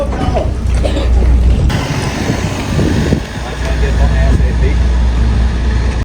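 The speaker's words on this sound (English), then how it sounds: "Just boarding the bus now." A bus engine on Rathlin Island drones low and steady during boarding, mixed with interior clatter and shuffling at close range.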